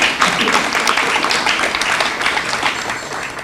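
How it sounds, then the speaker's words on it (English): Audience applause at a Mother Jones dinner event: a dense, steady crowd clapping filling the room, close and continuous without a break. "You clap for that."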